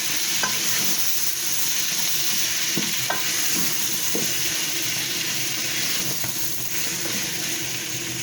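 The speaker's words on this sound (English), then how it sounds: "chopped potatoes and my chopped carrots. Then stir." Chopped potatoes and carrots stirred in a hot pot while frying, a steady close sizzle broken by a few spoon knocks and scrapes, with no one talking.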